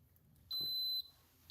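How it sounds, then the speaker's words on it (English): Coffee maker beeping once as it finishes brewing, a single steady high electronic tone lasting about half a second, with the start of another beep at the very end over a quiet room. "Oh, this is going to beep any second."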